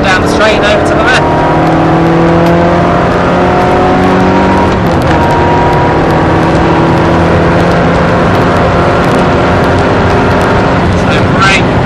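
A Ferrari engine roars loud and close as it accelerates flat out down a straight at the Silverstone circuit, a sustained high-pitched howl with rising harmonics throughout.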